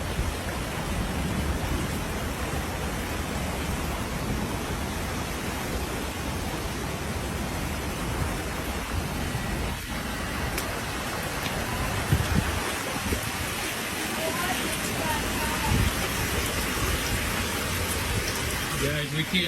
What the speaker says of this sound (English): here's some footage of how much rain we got in basically like a 4-hour period